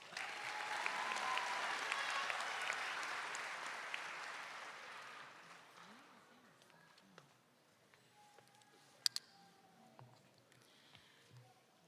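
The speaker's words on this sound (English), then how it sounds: "All of these honored graduates deserve a round of applause." A large audience applauds honored graduates at a 2025 high school commencement in a performing arts hall, a broad roar of clapping that gradually fades into scattered claps and quiet room noise.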